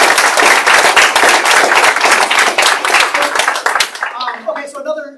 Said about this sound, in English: give Mr. DeVere a big round of applause